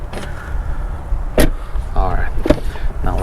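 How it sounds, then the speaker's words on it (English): Doors of a 2023 Tesla Model Y Performance opening and closing, a few sharp thumps and latch clicks with a brief whirring between them, close up over a low background rumble. "A quick door sound check."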